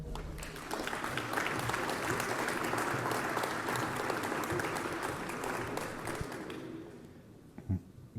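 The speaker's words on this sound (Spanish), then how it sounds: "Aplauso, por favor." Audience applause for a speaker at an institutional launch event, a full, dense round of clapping from a seated crowd that holds steady for several seconds, then tapers off with a few last claps.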